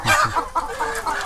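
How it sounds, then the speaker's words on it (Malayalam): Crested native chickens cluck close by in a quick series of short, throaty clucks lasting just over a second. "ഈ കാണുന്നതാണ് തൊപ്പിക്കോഴി."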